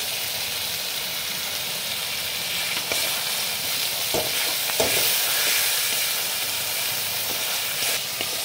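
Spice paste for a Bengali tangra fish curry frying in oil in a pan, a steady broadband sizzle with occasional scraping stirs and clinks, close and alone without talk.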